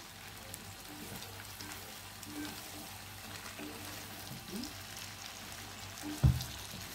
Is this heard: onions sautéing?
yes